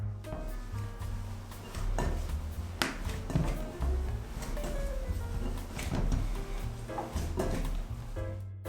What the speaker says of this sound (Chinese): 材料水分比较大，就先用筷子把材料搅拌均匀。